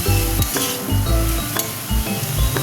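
Chopped capsicum goes into a hot pan with onions, tomato sauce and soy sauce and gets stirred, bringing a sizzle along with several clinks and scrapes of a utensil against the pan in short bursts.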